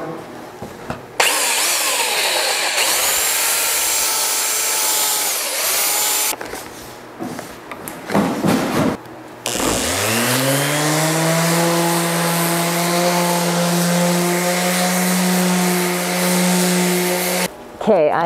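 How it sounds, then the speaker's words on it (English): Power sander working on reclaimed wood shelving, a loud steady whine with a strong low hum and harmonics that starts, stops and restarts, running mostly continuous for long stretches with brief breaks. "I know that you guys do not want to sit and watch me sand for hours on end."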